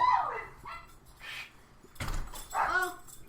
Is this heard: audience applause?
no